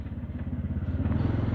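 A Karisma X 125D motorcycle engine thrums close by while riding, a steady pulsing throb that rises slightly in pace, with no voices.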